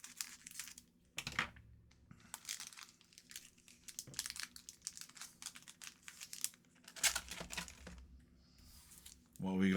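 An Upper Deck Marvel Beginnings trading card pack from a blaster box is torn open, with close, crisp crinkling and tearing of the foil wrapper in irregular bursts, ending in a louder rustle.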